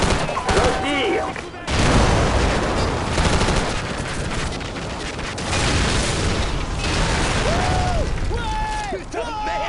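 Heavy gunfire and explosions in Call of Duty Modern Warfare, sustained loud bursts and booms under radio chatter and voices.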